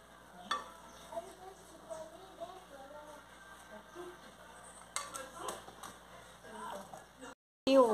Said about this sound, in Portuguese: Agora a gente dá uma misturadinha aqui